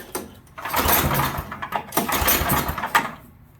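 An Ariens or Craftsman snowblower engine cold-starts, giving a short cranking catch, then a loud, uneven small-engine roar that sputters and surges briefly, close by with no talking.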